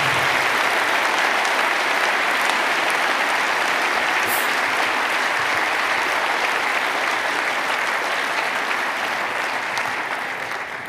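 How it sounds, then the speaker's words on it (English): Sustained audience applause at a hacker conference talk, a dense wash of clapping from a large crowd that holds steady and begins fading near the end. "Give them a clap."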